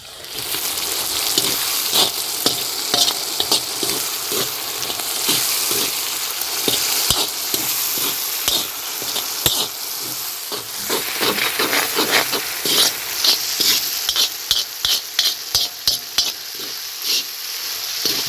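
Chicken rice being stirred in a hot pan, with a continuous loud sizzle and a long run of quick spatula scrapes and knocks against the metal, growing busier and more rhythmic toward the end.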